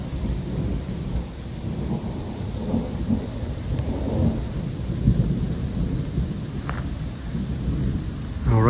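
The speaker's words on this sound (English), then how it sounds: "It's just starting to rain. You can hear the thunder." Deep rolling thunder rumbles over a steady patter of rain in the Yukon wilderness between War Lake and Dawson City, the rumble swelling and fading across the clip, with no voices.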